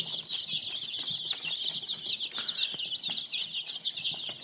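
Young Sussex and light Brahma chicks chirp in a continuous high-pitched chorus, with soft rustling and scattered light knocks around them.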